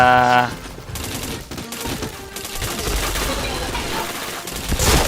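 Continuous rapid gunfire in a shooter video game, dense bursts of automatic shots and headshot kills that are loud and sustained throughout, with game effects layered in.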